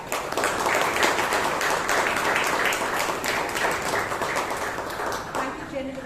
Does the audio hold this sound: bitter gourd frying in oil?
no